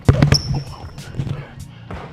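A basketball dribbled on an indoor court during a guard's shifty footwork and jump-shot workout, giving a few sharp bounces early on and then lighter taps, with talk over it.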